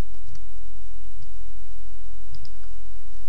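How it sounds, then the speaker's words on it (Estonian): Mouse clicks on a computer while saving a file, a few faint separate ticks spread over a few seconds against a quiet background with no talking. "Peale teksti sisestamist kliki salvesta failina"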